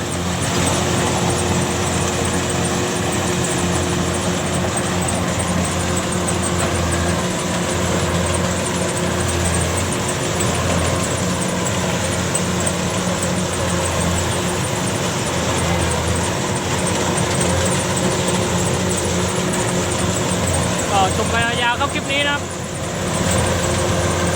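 A Kubota DC-105X combine harvester engine runs steadily and loudly close by, a constant heavy mechanical drone throughout, with a brief rattling burst near the end.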